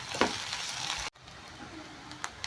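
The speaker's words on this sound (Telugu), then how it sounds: "కొంచెం ఇది వేగాలి ఆయిల్లో." Ginger garlic paste frying in oil over chopped onions for chicken momo filling makes a soft, close sizzle that breaks off abruptly and resumes more quietly, with a few small crackles.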